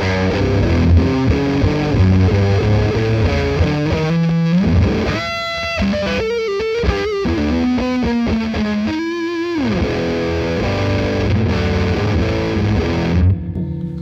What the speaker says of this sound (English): So I'm going to increase all the bottom end.